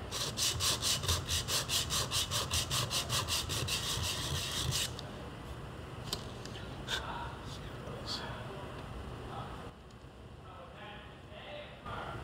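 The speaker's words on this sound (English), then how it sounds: "just hold it solid and let that sandpaper do the work" A wooden knife handle is rubbed over sandpaper on a block in steady, rhythmic strokes for the first few seconds, then a lighter, quieter scraping with a few faint clicks follows.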